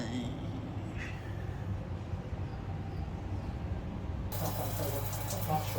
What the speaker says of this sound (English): this is the hot shower here. Hot shower is working.